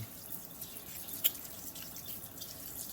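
Tap water runs and drips softly and steadily while wild-crafted sea moss is washed in a sink, with one small splash partway through and no voices.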